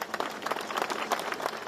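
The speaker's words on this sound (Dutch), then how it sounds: "Applaus." A crowd at a Zeeland coastal marathon weekend memorial claps in a short, even burst of applause, moderately quiet and sustained without voices.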